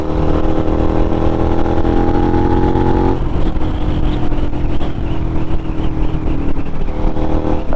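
A Suzuki SV650 motorcycle engine runs steadily at night in New York City, a loud, close, continuous drone whose pitch holds for a few seconds and then drops as the revs change.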